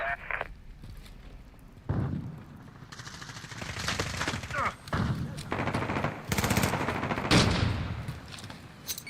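Call of Duty Modern Warfare battle with loud, close bursts of automatic rifle fire and scattered shots, broken by short lulls with in-game voice callouts.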